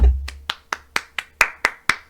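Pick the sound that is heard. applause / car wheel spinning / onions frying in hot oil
applause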